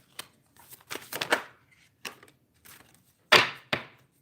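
A few quick, papery riffles of cards being shuffled, irregular short bursts with gaps of quiet between, close by.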